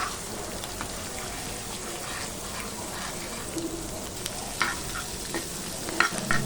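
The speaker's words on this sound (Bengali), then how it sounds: "লবণটা দিয়ে এখন আমি মাঝখানে ডিমটাকে একটু ভেজে নেব" An egg seasoned with salt fries in the middle of a pan of leftover rice and vegetables. A constant crackling sizzle is broken by occasional scraping stirs, closer and louder toward the end.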